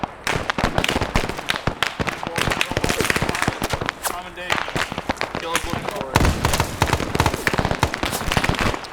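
A grenade goes off amid a dense battle in a Vietnam-era military shooter, with heavy gunfire and repeated booming blasts filling the scene under steady voice chat.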